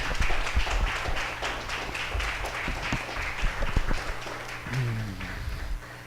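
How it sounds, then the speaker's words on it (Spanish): Congregation applauding in praise during a church service, a lively, fairly quiet patter of clapping hands from the gathered worshippers, with a brief faint voice near the end. "dele ese aplauso de alabanza al Rey"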